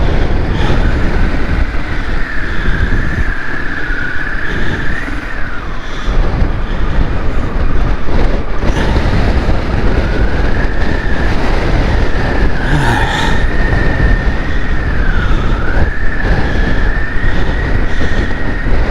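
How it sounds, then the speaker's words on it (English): Strong storm headwind roaring over a motorbike crossing an open bridge in the Scottish Highlands in winter, a loud, constant buffeting rush mixed with engine drone and a wavering whine, steady throughout with no talk. "it's the headwind"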